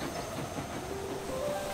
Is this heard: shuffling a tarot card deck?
no